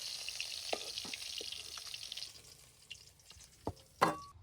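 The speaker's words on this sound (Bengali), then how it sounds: "কালো জিরে ফোড়ন দিয়েছি" Nigella seeds temper in hot oil with a close, bright sizzle that fades after a couple of seconds, followed by a few light clinks and a sharp utensil knock.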